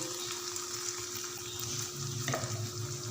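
Spices frying in oil in a pan over a low flame give off a soft, steady sizzle with a faint continuous hum behind it and one brief clink near the end, no voices.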